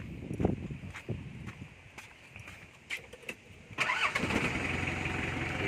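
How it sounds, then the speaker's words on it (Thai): A Mitsubishi L200 Cyclone pickup with the 4D56 turbo diesel cranks with a few uneven clicks and turns, then catches near the end and settles into a loud, steady diesel idle. "เดี๋ยวลองสตาร์ทกันดู"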